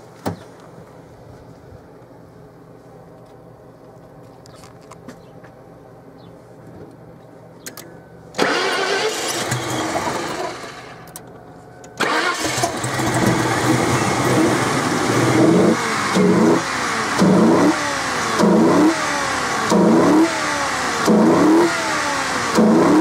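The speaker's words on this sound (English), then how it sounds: "So let's start the car and hear the difference." A car with a modified air intake sits quietly, then the engine cranks and catches into a loud start and idle. It follows with a series of sharp, close throttle revs that rise and fall in repeated bursts.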